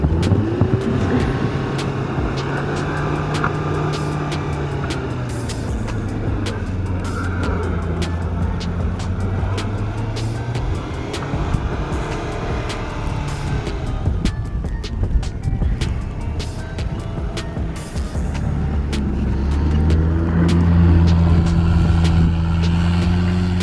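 Front-wheel-drive car driving through a snowy parking lot, engine revving and droning up and down close by, with crunching and clicking from the tyres and a louder rev near the end.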